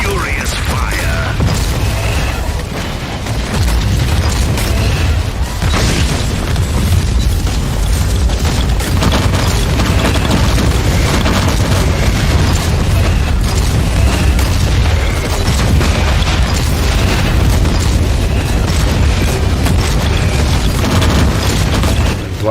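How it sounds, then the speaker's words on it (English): Video game explosions as the Crimson Wanderer's weapons burn ruins, a dense continuous roar of booms and rumbling fire with mechanical rattling, loud throughout, with a voice speaking over part of it. "Let the weapons of the Crimson Wanderer consume these ruins with furious fire."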